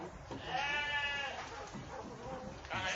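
A male sheep (ram) bleats with a drawn-out, wavering call at a livestock farm in Subang, close and fairly loud, over steady background noise.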